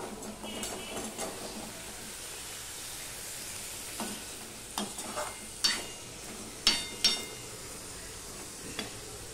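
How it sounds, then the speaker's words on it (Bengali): Chopped vegetables tip into a pan of hot oil with fried ginger for a no-onion, no-garlic Bengali vegetarian dish, a steady sizzle under sharp scraping stirs that come in several distinct strokes toward the end. "এবারে আমি যে কেটে ধুয়ে রেখেছি সবজিগুলো সেটা আমি দিয়ে দেবো।"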